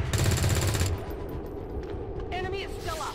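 A rapid burst of automatic gunfire, loud and close, followed by muffled rumbling and faint electronic effects from the video game XCOM 2: War of the Chosen.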